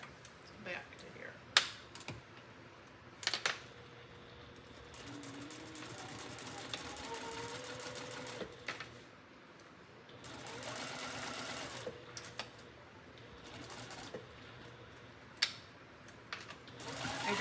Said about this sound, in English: This machine's just a straight stitch machine, but it's a workhorse.